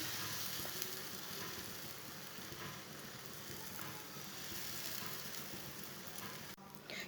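A besan paratha fries in oil on a pan, giving a steady, dense sizzle and crackle that holds at an even level from start to finish, with no voices.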